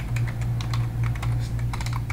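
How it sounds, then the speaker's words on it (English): Keys tapped rapidly on a computer keyboard at a Unix terminal, an irregular clicking run over a steady low hum, with no talk. "Now I can type things in here and we'll see what they do."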